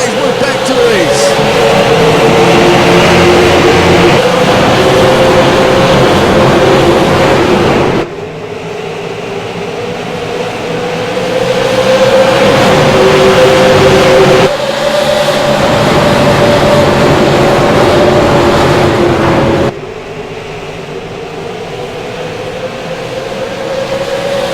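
Stock race cars in a SARA Super Series race at Iowa Speedway get back on the throttle for a green-flag restart, a loud sustained engine roar rising in pitch, with commentators talking over it.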